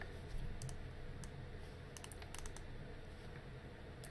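Code being typed on a computer keyboard for a Minecraft 1.8.9 mod: faint, scattered key clicks in short clusters, quiet and close over a soft background hum.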